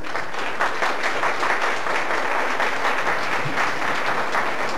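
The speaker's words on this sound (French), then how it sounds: "On peut encore les applaudir bien fort" A crowd applauding loudly and continuously at a school end-of-year show, a dense wash of clapping that holds steady throughout without pause.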